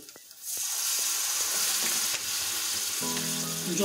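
Shrimp sauté in a kadai for a bottle gourd curry, a sudden loud sizzle rising after a quiet start and holding steady with scattered clicks of stirring.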